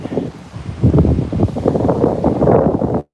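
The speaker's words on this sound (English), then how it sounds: "Gonna cut off the audio for a second because it's windy" Heavy wind on a hilltop in Fall River, Massachusetts buffets the microphone with a continuous low rumble and gusty roar, close and loud, cutting out abruptly at the end.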